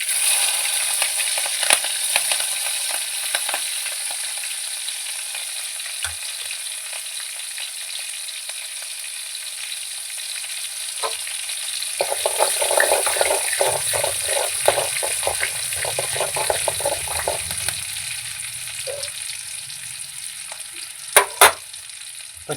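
Green chillies and cumin seeds sizzle in hot oil, a steady bright crackle that grows busier midway with sharp spits and a few scraping stirs near the end.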